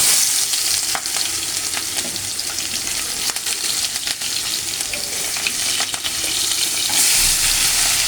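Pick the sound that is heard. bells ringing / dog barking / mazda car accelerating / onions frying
onions frying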